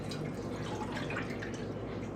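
Two cups of milk poured into a saucepan for homemade gravy, a steady close liquid trickle and splash lasting a couple of seconds.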